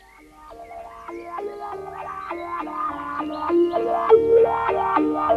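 Common frogs call near a pond in breeding season, a chorus of rising, warbling croaks repeating in quick pulses that starts quiet and grows fuller and louder, with no talking.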